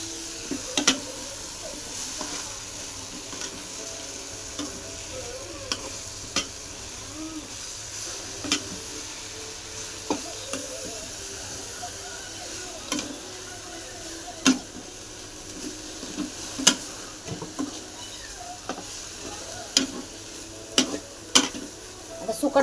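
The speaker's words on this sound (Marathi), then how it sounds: "आता सुकट चांगली परतून घेऊ, एकदम कडक कडक खरपूस होस्तोवर." Dried small fish (sukat) fry in a pan, a quiet continuous sizzle broken by repeated sharp scrapes and clicks of stirring, with no talking.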